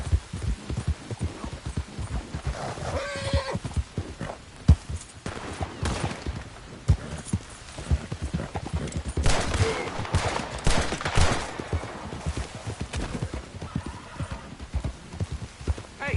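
A horse in the Red Dead Redemption 2 video game gallops with a fast, steady clip-clop of hooves, loud and close, with occasional whinnies and distant bursts of gunfire.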